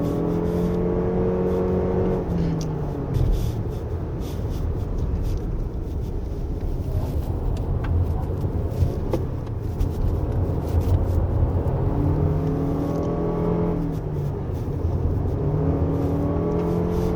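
A 2023 Lexus RX350h hybrid driven hard along a winding mountain road, its engine note rising and falling steadily through corners, with loud continuous drone and shifting pitch sweeps as it accelerates out of bends.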